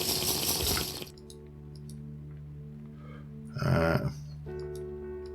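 Water gulped in the TerraFirmaCraft video game, a burst of watery splashing at the start, then a quiet stretch with low background music, and a second short splash of drinking sound partway through.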